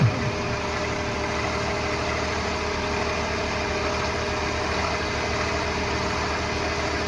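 Tractor engines, including a John Deere 5210 at a tractor pulling match, idle and rumble continuously, a steady low mechanical drone held at the same loudness with no voices.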